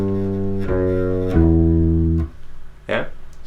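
Electric bass plays a short lick of four sustained low notes leading into a chorus, each note ringing clearly and close; a brief voice cuts in near the end.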